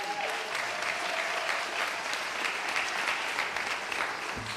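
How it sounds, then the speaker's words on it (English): An audience at a Bloody Sunday commemorative service in Selma, Alabama, breaks into sustained applause, a dense, even wash of clapping lasting several seconds before it begins to fade. "Will you give another round of applause?"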